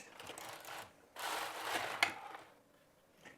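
The carriage of a Passap Duomatic 80 knitting machine slides across the needle bed to knit a row of a child's sweater, a short, quiet, rasping whir of about a second between softer handling noises.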